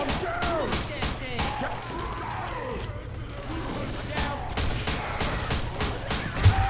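Rapid gunfire blasts away at the Tank in Left 4 Dead 2 as repeated loud shots come in bursts, mixed with game effects and clutter.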